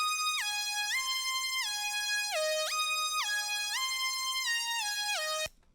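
Lead synth melody of a rage beat: a few bright, buzzy sustained notes with pitch bends between them in a short repetitive pattern, moderately loud and alone, cutting off abruptly at the end.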